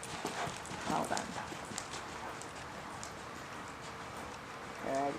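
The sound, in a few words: horse cantering hooves in riding arena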